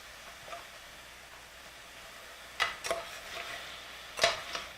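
Ground pork frying in a pan before sauce is added for dan dan noodles, a soft steady sizzle broken by a few sharp scraping stirs of a utensil against the pan, close and otherwise quiet.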